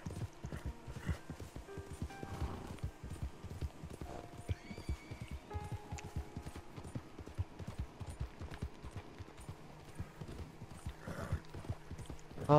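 Horse hooves clip-clopping in a rapid, steady galloping rhythm within an open-world video game, with occasional whinnies and neighs, moderately loud and continuous throughout, with no talking.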